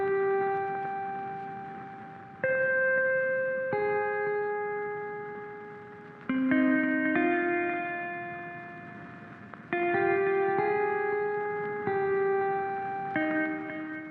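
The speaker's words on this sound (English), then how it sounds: "Now let's get into the guitar solo." A lofi jazz guitar solo built in FL Studio, clean sustained melodic notes with echo and effects ringing out, phrases starting every couple of seconds and fading between, with no voices.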